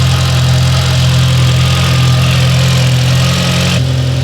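An Audi S3 engine runs at a steady, loud idle right up close after being restarted, a constant low droning hum with no revving.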